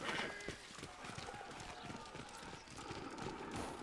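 Hooves clip-clopping at a trot amid busy ambience in the game Valiant Hearts: The Great War, with a voice talking over the steady rhythmic footfalls.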